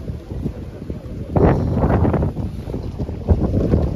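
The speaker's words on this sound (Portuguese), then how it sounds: "Porque aqui venta muito nessa parte." Strong wind gusts buffet the microphone on an exposed hilltop beside a church in Arraial d'Ajuda, Bahia, a loud broadband roar that swells after the first second and stays steady.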